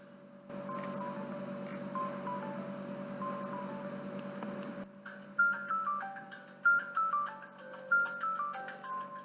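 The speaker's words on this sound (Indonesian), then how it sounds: "nanti akan ada notifikasi atau alarm untuk penanda kalau waktunya itu sudah habis" A steady electronic beeping tone pattern repeats alone over a low hum, then shifts into a brighter, quicker melodic phone alarm chime signaling a timer's end that loops several times.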